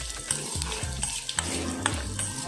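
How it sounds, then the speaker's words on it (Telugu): Raisins and small seeds fry gently in a pan on a low flame, giving a soft continuous sizzle broken by light clinks and scrapes of a stirring spoon. "ఇది సిమ్లో చక్కగా బాగా వేగాలండి, అలా మాడిపోకుండా చూసుకొని."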